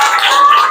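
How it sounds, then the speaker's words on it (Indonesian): A classroom group claps briefly for a student group after its presentation, a short, close burst of dense clapping with a faint tone beneath. "Kita kasih tepuk tangan dulu untuk kelompok 5."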